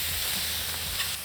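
Chili peppers in adobo sauce hit a pan of cooking onions and garlic, giving a loud, continuous, close-up sizzle and hiss that holds steady with no one talking.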